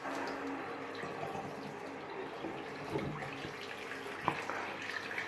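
Tap water runs steadily and fairly quietly to soak a shaving brush before lathering, a continuous hiss with one small clunk near the end and no talking.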